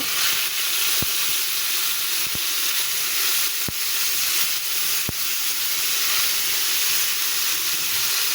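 Fish pieces coated in turmeric and salt frying in oil, a loud steady hiss and sizzle sustained throughout at close range, broken by four sharp clicks spaced about a second apart.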